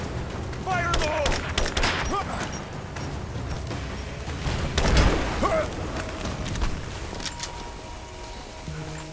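Explosions and bursts of gunfire in the Rise of the Tomb Raider video game, a heavy boom near the middle amid crackling shots and debris, with a voice speaking over the game noise.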